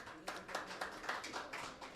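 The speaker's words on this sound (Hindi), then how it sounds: "जोरदार तालियों के साथ।" A soft, steady wash of audience clapping fills the hall at the Shan e Aurangabad Awards ceremony, with quiet bursts of applause rising and falling throughout.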